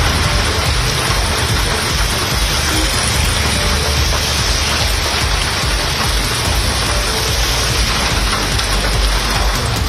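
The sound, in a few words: heavy rain in Chennai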